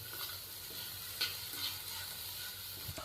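Mixed vegetables such as capsicum and cabbage stir-frying for veg hakka noodles, a faint, even sizzle broken by a couple of light spatula scrapes and clinks.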